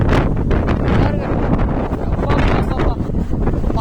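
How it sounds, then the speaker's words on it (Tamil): Heavy rain with strong gusting wind during a days-long downpour in Gujarat, a loud, continuous broadband roar with buffeting wind gusts throughout. "சாரில் அடிச்சுட்டே இருக்கு மலை"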